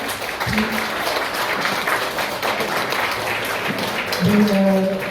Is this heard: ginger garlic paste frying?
no